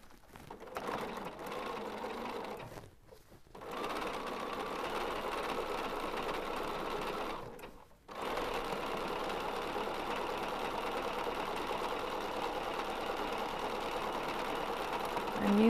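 A sewing machine stitches a doll panel in steady runs, pausing twice briefly as the needle stays down and the fabric is turned, then resuming a continuous close, moderate whir.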